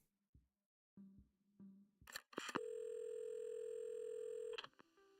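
Telephone in the game Assemble with Care: a few soft clicks, then a loud steady electronic tone holding for about two seconds before cutting off, followed by a faint low hum.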